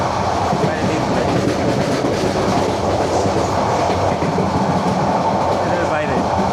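A moving passenger train on the Dhaka to Cox's Bazar line rumbles loudly and steadily from inside, with rhythmic clickety-clack of wheels on rails and faint voices beneath the noise.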